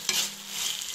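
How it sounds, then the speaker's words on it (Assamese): Boiled potatoes hiss and sizzle in a hot pan for a moment, a bright steady frying sound with faint stirring scrapes at the start and end, close up and without talk. "আলুখিনি দি পেলাই আৰু অলপ সময় ভালধৰণে ভাজিম।"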